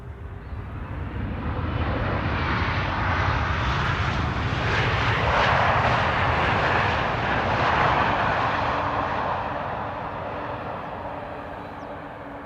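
United Airlines Boeing 777-200 jet passing at Amsterdam Schiphol, its engine roar swelling gradually to a broad peak mid-way and then fading slowly as it moves off, heard alone without talk.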